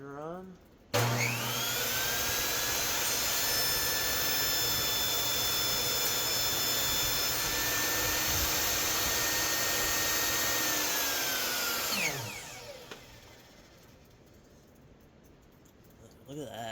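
A Ryobi 10-inch table saw is switched on and runs at a loud, steady whine with a sharp start, holds for about eleven seconds, then winds down as the blade spins to a stop.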